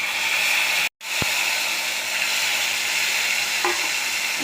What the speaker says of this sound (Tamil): நல்லாவே கொதிக்கட்டும்